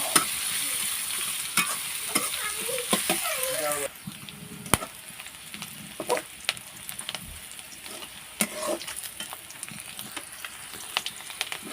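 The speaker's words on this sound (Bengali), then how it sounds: "এখানে দিয়ে দিলাম আমি 2টা শুকনো মরিচ। আমি ভালোভাবে এটা ভেজে নেব।" Two dry red chillies frying and being stirred in a pan for a village-style kalmi greens dish: a steady crackling sizzle with sharp scraping stirs, louder in the opening seconds, then quieter sizzling broken by distinct clinks.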